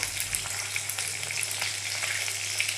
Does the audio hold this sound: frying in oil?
yes